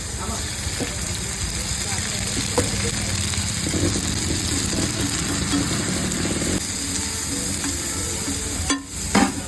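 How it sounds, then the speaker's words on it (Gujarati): Onion, chili, tomato and garlic frying in oil for an egg masala keema, a loud continuous sizzle with stirring scrapes and a steady hum beneath, ending in a couple of clattering knocks. "પછી ડુંગળી, મરચાં, ટામેટાં, લસણ અને મસ્ત તેલમાં ફ્રાય કરીશું."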